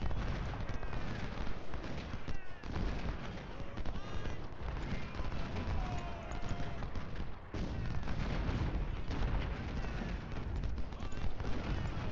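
Cannon and artillery fire from the Ultimate General Civil War game at the Battle of Shiloh, heard as dense, continuous booming and crackling gunfire throughout, with a brief lull partway through.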